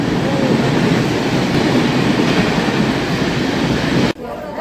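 A Mumbai local train rushes past fast at close range, a loud steady roar of wheels and cars that cuts off abruptly near the end.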